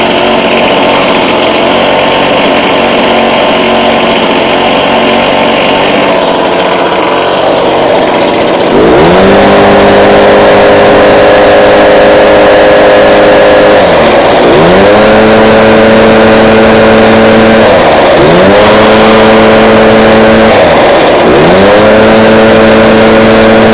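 A Stihl chainsaw is pull-started without choke, then its engine catches and roars loudly, revving up and down in repeated surges after an earlier stretch of idle rumble.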